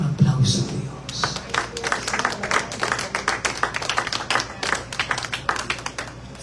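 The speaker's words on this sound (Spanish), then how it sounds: "Le dan un aplauso a Dios." A church congregation applauds, a dense run of many hands clapping that swells and carries on steadily, with a voice heard briefly at the start.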